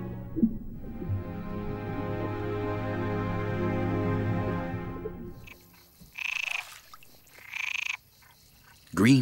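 Chorus frogs croak in a dense, continuous chorus for several seconds where groundwater surfaces, then it cuts out and a few separate, louder croaks ring out close by.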